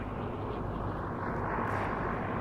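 WWI-era biplanes, a BE-2E leading a Bristol F-2B fighter, flying at the Duxford air show: a steady, distant propeller-engine drone over broad outdoor rush, even and unbroken for a couple of seconds.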